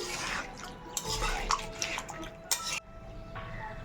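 Water pours into a pot of potato curry, a close splashing, trickling flow with small metallic clinks from the pot, ending abruptly into a quieter hiss.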